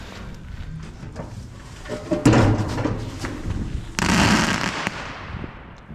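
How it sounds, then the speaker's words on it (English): Fireworks and firecrackers go off outside in the Netherlands, a dense crackling rumble with several sharper bangs and thuds, fairly loud and continuous over the whole stretch. "Yeah, in the Netherlands people are very into those kind of fireworks."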